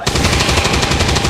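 Rapid overwatch gunfire from a soldier in the strategy video game XCOM 2, a dense, loud burst of automatic shots in steady rhythm lasting the whole moment, with no talk over it.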